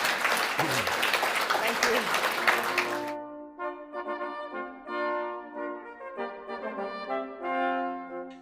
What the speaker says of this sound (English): Can we have a round of applause for Drew and Toya?